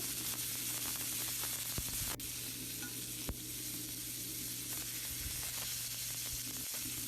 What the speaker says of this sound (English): At this point, the ma'ane starts to render its fat and juices. Keep on stirring.